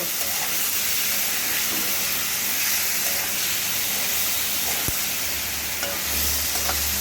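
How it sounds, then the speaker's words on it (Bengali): Small mourola fish sizzle steadily in a hot wok, with the continuous hiss of frying oil and occasional stirring scrapes. No voices. "কড়াইতে দেওয়ার পরে হালকা করে একটু নাড়িয়ে চাড়িয়ে দেব"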